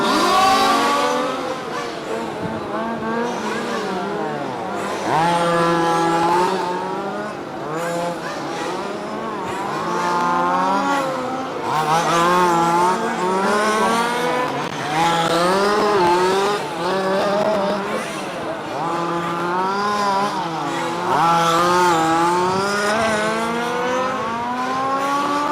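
Race cars lapping a speedway track, engines roaring and repeatedly swelling and falling as they pass and accelerate out of the turns, several cars overlapping, loud and sustained throughout, with an occasional commentator voice faintly underneath.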